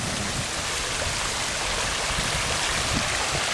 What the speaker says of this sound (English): See the little waterfall?